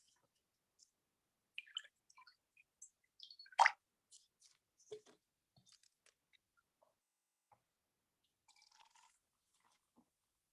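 A baking soda and water mixture fizzes in a food science experiment, with sparse tiny pops and crackles scattered over near silence, close and faint, with no talking.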